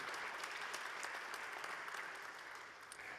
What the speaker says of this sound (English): a round of applause for our interpreters